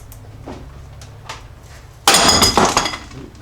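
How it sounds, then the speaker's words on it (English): A rusted bolt snaps off at the aluminum steering box spacer of a Jeep XJ, a sudden loud sharp crack with metallic ringing and rattling, close up after faint quiet shuffling and no talk. "it looks like it snapped right in that aluminum spacer"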